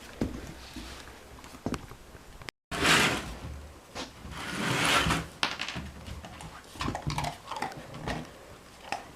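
A big puppy tugs at a towel during service-dog training, with scattered rustling, scuffling and thumping bursts of fabric and movement close by, alongside a brief dropout and no talk.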